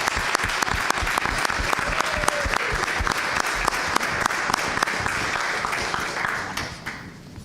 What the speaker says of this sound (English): Please join me in giving Mrs. Hirsch a round of applause